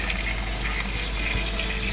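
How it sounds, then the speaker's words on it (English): Cold tap water gushes into a pan of cut potatoes, a loud, close, continuous pouring sound with no talking. "Put cold water in the pan and then put the pan on the stove."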